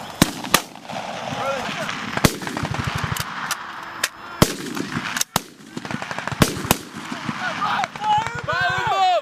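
Gunfire in a combat video game: sharp, loud single shots and short rapid bursts scattered throughout, with a voice shouting commands over the battle noise.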